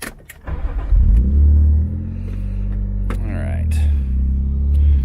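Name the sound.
BMW E36 engine starting and idling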